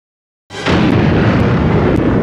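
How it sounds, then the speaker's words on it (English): Thermonuclear explosion destroying the ship in the film The Thing: a sudden, massive blast after a short silence, swelling into a loud, sustained roar with no voices. "Nope, thermonuclear explosion."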